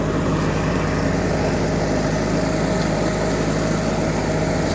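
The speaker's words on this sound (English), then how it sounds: "As much as I hate that junk Kawasaki V-twin that's in it, it eats the grass up." A zero-turn mower powered by a Kawasaki V-twin engine cuts grass with a steady, loud engine drone that holds unbroken throughout, with no talk over it.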